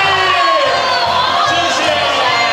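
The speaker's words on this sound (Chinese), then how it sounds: "掌声鼓励，" A premiere event audience cheers and shouts loudly and continuously, with whoops and children's voices mixed into a dense crowd roar, while a voice speaks over it.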